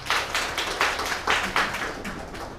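A seated audience claps at the opening of a district education policy debate, a short burst of brisk applause from a modest crowd in a hall that swells and then thins out.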